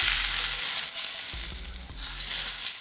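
Hot oil poured slowly over green chilies for a pickle, hissing in a loud, close, steady sizzle that eases off briefly midway and then surges again, with no voices.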